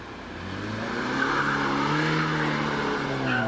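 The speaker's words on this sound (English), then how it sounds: "the Porsche 944 3-litre machine, heading from Torres towards Pardon" Porsche 944 3-litre race car on a hill climb course, its engine note rising and holding at moderate distance as it accelerates through a bend, with no talk.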